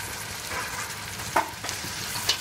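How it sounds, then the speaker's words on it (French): Vegetables for achards de légumes land in hot oil and sizzle, a steady frying hiss broken by a few sharp spits and crackles as they are stirred, close and moderately loud, no talking. "Là, je jette mes légumes dedans."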